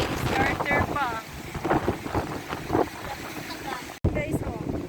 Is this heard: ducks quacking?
no